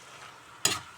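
Alugbati greens with egg stirred in a pan: a quiet low hiss of frying, then one short, loud burst of scraping and sizzle near the end, close by with no voices.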